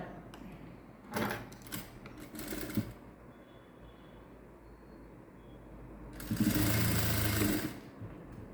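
A sewing machine stitches a blouse shoulder seam in two loud bursts, one short and one about a second long, with quiet stretches in between.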